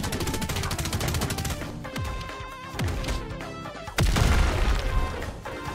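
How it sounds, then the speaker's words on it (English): Rapid bullet barrage attack in the Roblox game Strongest Battlegrounds: a dense run of gunfire-like pops with booming impacts, swelling into a louder crash near the end, with game music underneath. "Bullet barrage."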